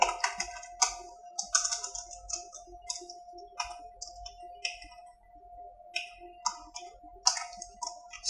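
Rapid clicks from a computer keyboard as Java code is typed in Visual Studio Code, coming in irregular bursts of keystrokes with short pauses, close and crisp with no talking.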